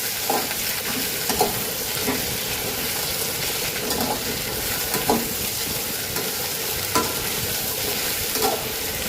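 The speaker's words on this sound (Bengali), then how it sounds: "আলু এবং কাঁচা লঙ্কাটাকে একটু হালকা করে ভেজে নিতে হবে।" Steady oil sizzling of potatoes and green chillies frying, with soft stirring scrapes recurring every second or so, close and continuous.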